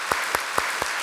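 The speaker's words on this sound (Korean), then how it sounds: "우리 하나님께 영광의 박수 한번 올리죠." Slow, regular group clapping from a church congregation at a Korean Sunday service, four evenly spaced claps in about a second, moderately close and with no voices.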